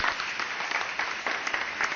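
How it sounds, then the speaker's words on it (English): A studio audience on a talk show applauds as guests from the film Captain America: The First Avenger come on. The clapping is dense and steady throughout, with no talking over it. "Please give a very cheery applause to Joe Johnson and Chris Evans"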